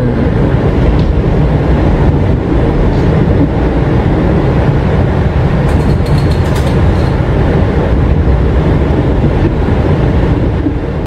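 Inside the Purwojaya executive train rolling along the rails at night, a loud, constant low rumble with steady wheel roar and faint rattles, no breaks in the noise.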